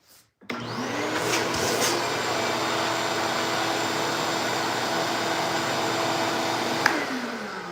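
A vacuum cleaner with a hose attached, hooked up in a woodworking shop, starts abruptly and runs as a loud, steady roar with a brief bump near the end; no one speaks.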